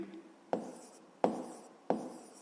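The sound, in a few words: writing on paper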